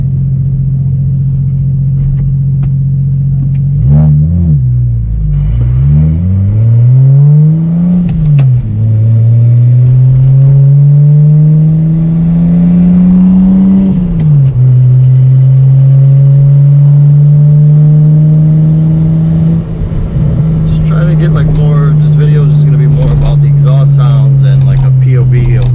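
A BMW N54 fitted with a Speedtech bottom-mount single turbo kit, Precision 6266 Gen 2 turbo and ATM 3.5-inch single race exhaust drones loudly and steadily from close by, its pitch rising and falling through several revs and shifts.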